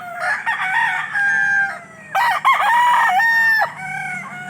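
Chicks and two-month-old fighting cocks cluck and crow nearby, with loud, strained crowing calls overlapping in a few long bursts.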